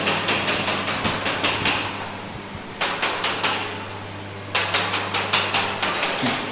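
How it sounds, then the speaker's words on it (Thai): Floor tiles tapped one after another during a house inspection, checking for hollow spots: sharp, evenly spaced knocks in two quick runs separated by a pause, over a steady low hum of a fan or air conditioner. "อันนี้เขาก็จะไล่เคาะกระเบื้องทีละแผ่นนะครับ"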